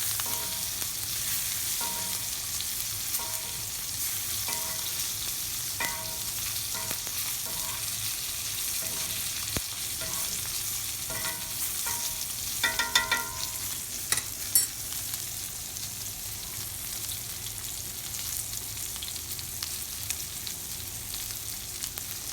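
A steak sears in a hot pan during a reverse sear, giving a steady, even sizzle throughout with occasional louder crackles and pops near the end, close by and with no talking.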